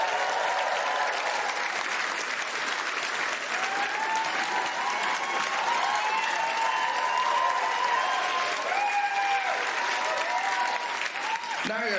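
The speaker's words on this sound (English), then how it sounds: "A round of applause, please, for my Pasty Museum" A stand-up comedy crowd applauds a comedian's Pasty Museum, dense sustained clapping throughout with scattered whoops and cheers rising over it, loud and full-room.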